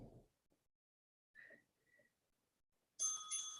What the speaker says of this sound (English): There's that bell, so we're gonna keep those hips high for the next 30.